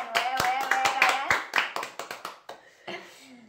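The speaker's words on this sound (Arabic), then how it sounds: "صفقوا على رايان" Several people clap close by in quick, uneven bursts at the end of an instant noodle eating challenge at home, with excited voices cheering over the applause.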